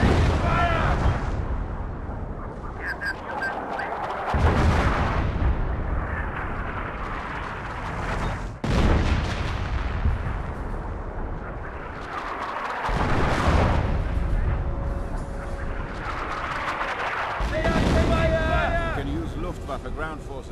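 Dense battle din from the Company of Heroes: Opposing Fronts video game, with continuous gunfire and heavy artillery booms rolling over one another, loud throughout, and game voices speaking in between.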